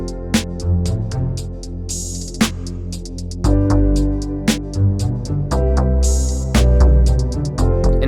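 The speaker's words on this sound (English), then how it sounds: "obviously, the string section, and it's called the pizzicato." Plucked pizzicato strings from a Nexus 3 string section sound as short repeated notes over a dense beat with punchy drums and bass, loud and busy throughout.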